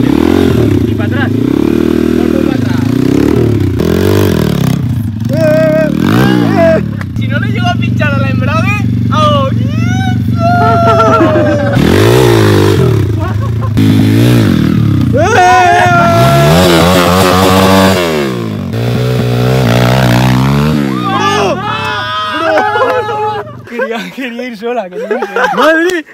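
Motocross motorcycle engine revved hard at full throttle, loud and close, rising and falling in repeated pitch sweeps for over twenty seconds, with people talking and shouting over it.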